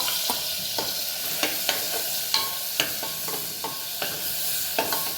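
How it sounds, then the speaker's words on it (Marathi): Ground masala sizzles in a hot pan while a spoon scrapes and taps the metal in an irregular stirring rhythm, up close with no talking. "तो मसाला मी ह्याच्यामध्ये घालते आहे आणि मसाला 2 मिनटं परतून घ्यायचा."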